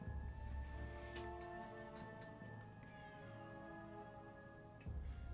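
A pet cat meows indoors a few times in fairly close, drawn-out calls over a low background hum, with no talking.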